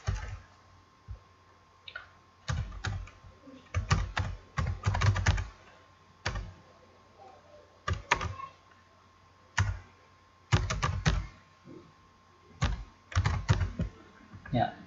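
Fingers typing on a computer keyboard in bursts of rapid clicks separated by short pauses, close and crisp, with a faint steady hum underneath.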